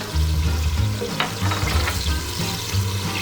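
Tomato paste and spices hit a hot pan for a sour meatball sauce, giving a steady close sizzle and crackle with a few louder bursts, continuous throughout with no talking.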